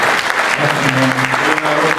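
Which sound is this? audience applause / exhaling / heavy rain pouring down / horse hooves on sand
audience applause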